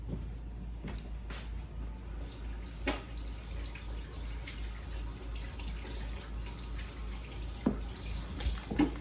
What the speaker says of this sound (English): wash my hands for like the umpteenth thousandth time.